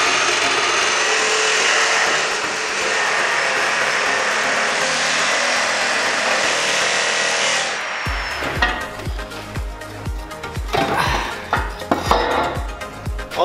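A power tool cuts through the torsion bar assembly of a Tatra truck being stripped for a four-motor monster truck build. A loud steady grinding roar gives way to rough, uneven metallic cutting with clanks and thumps.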